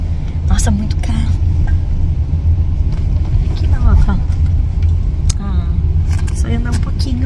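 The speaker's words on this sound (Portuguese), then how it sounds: "Nossa, muito carro." Steady low rumble of many cars moving through a busy parking lot, a continuous close traffic drone with people talking over it.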